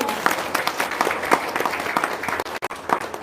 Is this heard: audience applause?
yes